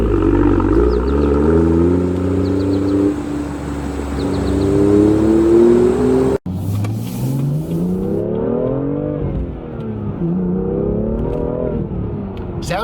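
A BMW M2 engine revs loudly up close, its pitch climbing and falling in repeated surges, with a brief break partway through; the engine sound is partly artificially enhanced.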